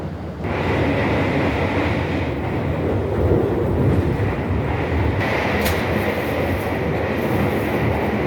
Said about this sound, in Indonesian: Kereta api Jakatingkir sekarang sudah meninggalkan stasiun Lempuyangan